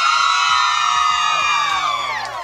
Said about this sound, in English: Okay, ladies, you know scream one time for big boy.